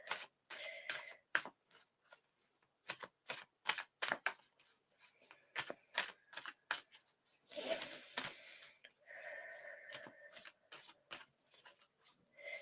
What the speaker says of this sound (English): I'll give them a couple of shuffles first.